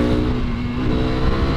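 A close, loud 2017 KTM RC390 sport motorcycle with an aftermarket exhaust, steady throaty rumble dropping in pace as it decelerates, heard alone without talk.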